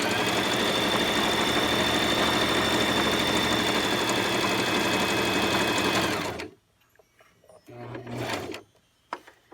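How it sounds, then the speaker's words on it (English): A sewing machine runs steadily for about six seconds, stitching up a Christmas stocking with a dense mechanical whir, then stops; two brief, softer bursts of stitching follow after a pause. "I am actually going to go ahead and sew all the way up."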